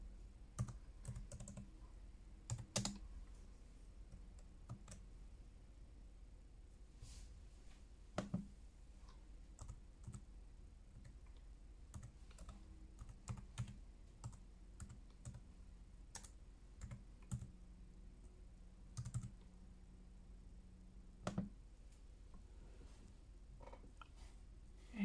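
Someone types a username and password on a computer keyboard to log in to a Mac mini over screen sharing from a MacBook Pro, making quiet, close key clicks in irregular bursts with no talking.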